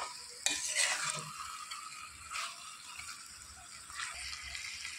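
A spoon stirs masala chicken in a pan, giving a few scraping strokes at irregular intervals over a faint sizzle from the hot pan.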